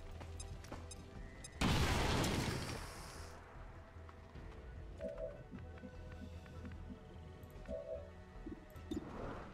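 A grenade explodes in the tactical video game XCOM 2: a single loud, sudden blast that rolls off over a couple of seconds, followed by quieter game ambience and small effect sounds.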